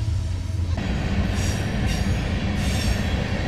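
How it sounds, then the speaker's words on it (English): Train passing close by, a loud continuous rumble of rail cars with squealing wheels and metallic screeches rising partway through, no voices. "All right, train is passed."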